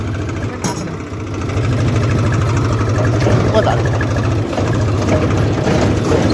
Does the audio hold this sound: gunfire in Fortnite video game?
no